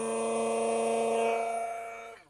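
A Sokany 5-in-1 hand blender runs close by with a steady motor whine, its harmonic buzz holding level for about two seconds before spinning down as it is switched off.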